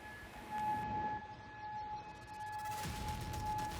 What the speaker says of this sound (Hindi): कुवैत सिटी के लोग सायरन का शोर सुनकर अंडरग्राउंड बंकरों में छुप जाते हैं।